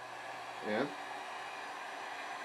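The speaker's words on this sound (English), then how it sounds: "I have my wife's industrial strength hair dryer." An industrial-strength hair dryer blows heat onto shrink tubing while assist hooks are made, giving a steady, even whir that runs the whole time, with a single short spoken word partway through.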